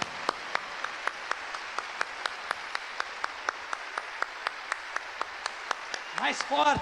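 Men in a church audience clap in a steady, sparse rhythm, each clap sharp and distinct at moderate distance, with a voice rising briefly at the end.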